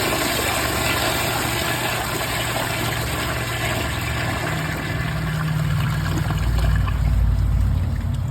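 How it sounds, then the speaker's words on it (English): A 2018 Mansfield Summit dual flush toilet flushing on a mid-level tank: a loud, steady rush of water runs throughout, close by, swelling slightly toward the end. "Tank is at the waterline, let's give it a flush."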